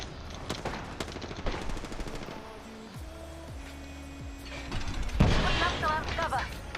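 Rapid gunfire in Fortnite: bursts of sharp shots with mechanical clatter, loud and close, easing off midway and then returning with a heavier burst, while a person talks over the game.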